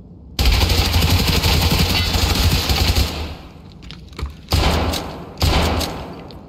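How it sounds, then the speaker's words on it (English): Automatic gunfire in the video game Escape From Tarkov rattles out in loud, rapid bursts: a long sustained volley, then two shorter bursts after a brief pause. "Yo, who's shooting?"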